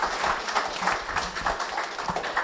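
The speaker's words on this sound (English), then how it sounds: "Let's give a round of applause to our panelists." An audience at a cultural day panel on Chamorro customs, traditions and law applauds the panelists, giving steady moderate clapping throughout with faint voices mixed in.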